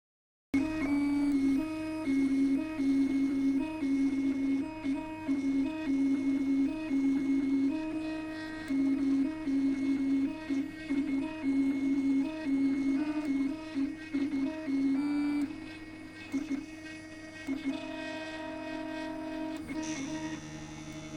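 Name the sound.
Cellink X6 bioprinter printing soft material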